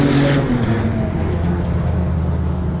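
A race car with a broken exhaust revs hard and rough at Shannonville, a loud raspy exhaust note sweeping up then settling into a droning hum.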